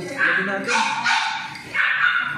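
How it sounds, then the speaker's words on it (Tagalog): Several dogs bark in short bursts, fairly close, with a voice speaking over and between the barks. "Dami pong aso."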